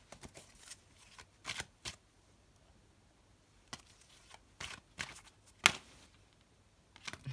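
Tarot cards are shuffled by hand up close, giving quiet bursts of riffling and flicking separated by short pauses.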